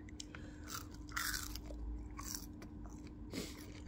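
Bites and chews of greasy, sunflower-oil-fried fish and chips from a seaside chip shop, giving close, moist crunching and chewing with no talk over it.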